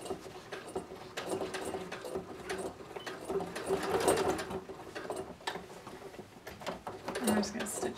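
A sewing machine stitches down bias binding trim around the hood of a quilted vest. Its close, steady stitching chatter runs in short bursts, with quiet talk now and then.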